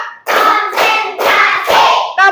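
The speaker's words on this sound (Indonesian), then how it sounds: "Tepuk 1, tepuk 2, tepuk 3, semangat. Tepuk 4," Classroom hand clapping in a rhythmic chant pattern, several crisp bursts of many hands together in quick succession, loud and close with short gaps between.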